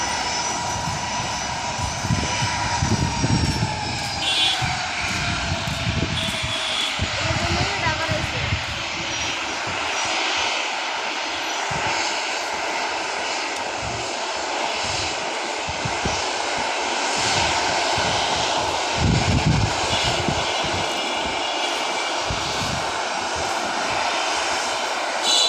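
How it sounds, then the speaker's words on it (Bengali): A Tanjin Air cargo plane revs its engines, a loud continuous roar with a steady droning hum that swells and holds, while people talk over it. "অলরেডি বিমানটি তার ইঞ্জিনের গতি বাড়িয়ে দিয়েছে"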